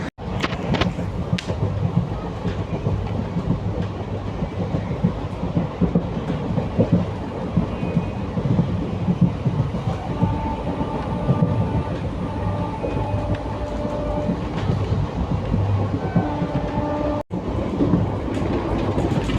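Kalka-Ambala Cantt 54532 unreserved passenger train rolling along the Baddi line near the Mani Majra crossing and IT Park, a steady close-up rumble with rhythmic wheel clatter and a brief dip near the end, no voices.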